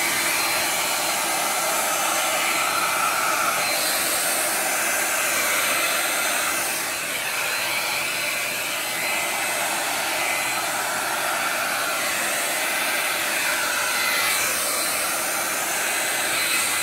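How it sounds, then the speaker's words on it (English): A hair dryer runs on its high setting during a blow-out, a steady loud whooshing roar held close and unbroken for the whole stretch, with only slight dips in intensity and no voices. "let's use the hair dryer and see what we can accomplish. We're going to have to put it on high,"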